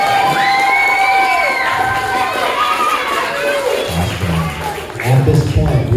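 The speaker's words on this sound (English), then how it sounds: "Let's give final round of applause for our fifth representing team." Audience at a Lincoln Douglas debate competition cheers, shouts and claps loudly after the final round, with excited children's voices and whoops rising over a dense, continuous crowd roar.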